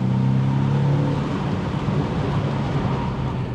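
A Porsche 718 Boxster with a 2-litre turbo engine drives along, its low engine drone steady under broad road and wind roar, strongest at the start then easing slightly.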